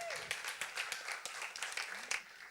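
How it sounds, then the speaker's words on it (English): Audience applause for a speaker at a founder-stories afterwork event, scattered sharp claps over a hissy crowd wash, fairly quiet and somewhat distant, with faint voices mixed in. "Let's give Max a huge round of applause"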